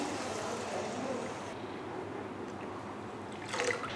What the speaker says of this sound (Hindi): तो ये हमने 5 कप पानी इसमें ऐड कर दिया।